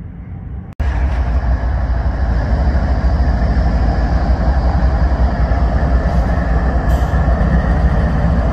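A freight train rumbles steadily past at close range after a sudden cut-in, a loud, sustained roar of rolling wagons with a brief higher squeal near the end.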